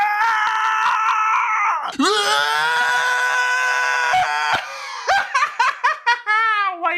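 A long, loud, raw scream from the war film Warfare, sustained and strained, breaking into ragged shorter cries and groans toward the end, with no talk over it.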